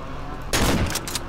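A single loud, close shotgun blast in the horror game Cry of Fear, a sharp boom that rings out briefly over steady background noise.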